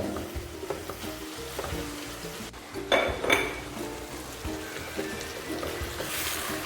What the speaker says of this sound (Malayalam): ഞാൻ നല്ലോണം ഇളക്കി കൊടുക്കട്ടെ